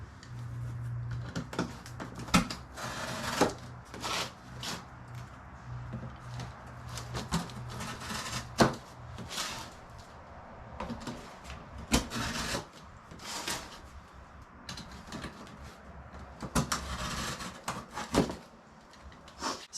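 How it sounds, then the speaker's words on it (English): A box cutter slices along the corners of a cardboard box, giving repeated scraping, rasping strokes and short sharp cuts, close and fairly quiet, with no talking. "you get your box cutter, and you're going to cut along the corners"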